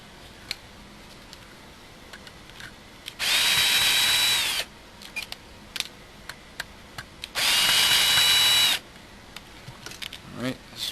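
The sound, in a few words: power drill removing screws from Kyosho Lazer ZX-S RC car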